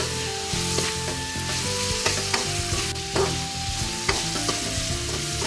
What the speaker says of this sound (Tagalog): Para habang ginigisa natin guys yung ating karne, yan, magkaroon na siya ng lasa guys.